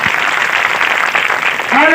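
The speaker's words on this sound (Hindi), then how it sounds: "जोरदार ताली।" Loud applause from a church congregation during a Sunday prayer gathering, a dense steady wash of clapping over two seconds, with a voice starting to speak near the end.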